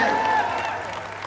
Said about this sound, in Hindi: एक बार राजू दा के लिए भी जोरदार तालियां होनी चाहिए